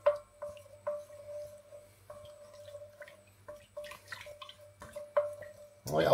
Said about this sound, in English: Right, going to give that a little bit of a stir and get it going.